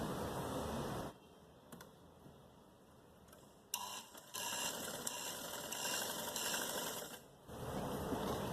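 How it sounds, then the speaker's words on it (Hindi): A sewing machine runs steady, even stitching along a straight seam from one corner to the other while folding a shirt or kaftan, stopping briefly partway and then resuming with a continuous mechanical whir. "बिल्कुल सीधी सिलाई करेंगे दूसरे कोने तक"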